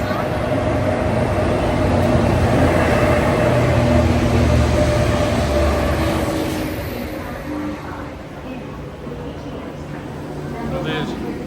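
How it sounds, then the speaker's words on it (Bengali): A KTX bullet train pulls into a station platform at Suwon, a broad rumbling roar that swells and then gradually eases off as it slows, with people's voices mixed into the noise. "আমাদের বুলেট ট্রেন তথা কেটিএক্স চলে এসেছে।"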